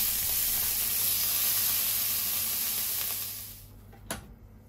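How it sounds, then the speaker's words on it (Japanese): Potatoes deep-fry in hot oil in a home kitchen, giving a steady, close hiss and sizzle that fades over the last second, followed by a single sharp clink. "これを一旦揚げておきます。"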